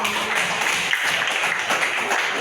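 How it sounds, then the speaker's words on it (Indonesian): An audience in a classroom lesson applauds, a steady dense wash of many hands clapping at moderate loudness throughout. "Tepuk tangan buat"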